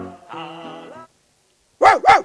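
Two loud, close dog barks sound in quick succession near the end, after a stretch of indoor talk and a pause.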